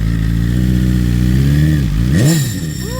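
A 2020+ BMW S1000RR fitted with an STM dry slipper clutch idles with a loud, steady engine note close by, then gives one quick throttle blip that swells and falls away.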